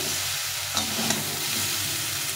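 Vegetables for shukto fry in a little oil, a dense continuous sizzle with a few stirring scrapes, close and steady, with no speech.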